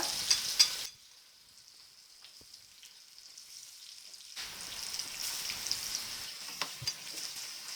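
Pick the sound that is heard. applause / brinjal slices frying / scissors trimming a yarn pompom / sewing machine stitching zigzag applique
brinjal slices frying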